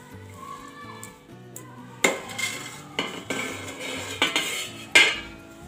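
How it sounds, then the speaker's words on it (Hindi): Fresh coriander is chopped finely with a knife on a board. About a dozen sharp taps come in an uneven run, close by, after a quieter lead-in with a faint musical hum. "और इसी तरह से अब हम धनिया भी चॉप कर लेंगे।"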